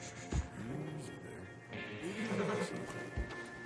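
Horse whinnying in Red Dead Redemption 2, a soft snorting neigh and a couple of hoof knocks among other game horses, with voices talking over it throughout.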